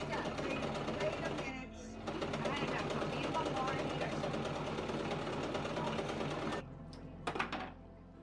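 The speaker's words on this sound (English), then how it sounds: "And then you sew all along the edge just to finish it up." A sewing machine runs steadily, stitching along the edge of cotton trousers with a fast rhythmic whir for several seconds, then briefly stops and restarts in short bursts near the end.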